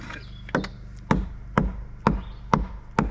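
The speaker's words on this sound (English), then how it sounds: "So why don't you just tap it with the hammer and all?" A hammer taps timber framing on a porch build, six sharp knocks spaced evenly about half a second apart over a low background hum.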